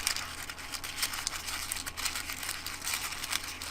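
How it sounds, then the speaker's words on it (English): Parchment paper being crumpled and crinkled by hand, a steady stream of close, dense crackling rustles with no talk. "do you think it's crinkly enough to crumple it up?"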